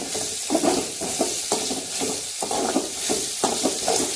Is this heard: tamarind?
yes